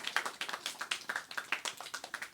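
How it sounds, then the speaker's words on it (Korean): A small group claps in a church class setting, a quick, light, fairly faint run of steady claps. "아이고, 박수해 주세요."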